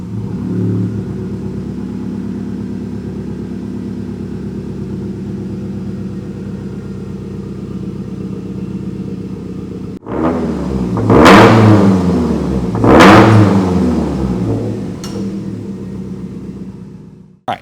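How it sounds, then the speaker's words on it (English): A Subaru STI engine idles steadily on a cold start, then revs sharply twice in loud, close bursts before settling back to a rumbling idle. "I'm gonna hop in this thing, get a cold start clip real quick"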